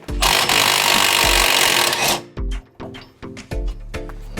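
A 22mm nut on a lower ball joint of a BA/BF Ford Falcon being undone with a power tool, first a sustained loud two-second whir, then several short rattling bursts as the nut spins off.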